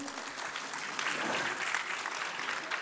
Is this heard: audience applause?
yes